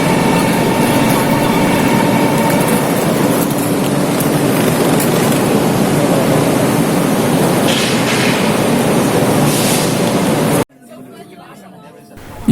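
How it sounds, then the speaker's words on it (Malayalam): A Chinese high-speed train bound for Shanghai gives a steady, loud interior rumble with a constant murmur of passenger chatter. It cuts off abruptly near the end into near quiet. "അപ്പം നമ്മളെ ട്രെയിൻ പുറപ്പെട്ടിട്ടുണ്ട്"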